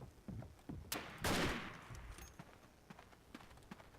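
Rifle shots in the First World War shooter Verdun, a few sharp cracks followed by one louder, longer blast, then quieter scattered thumps and footsteps at a fairly low overall level.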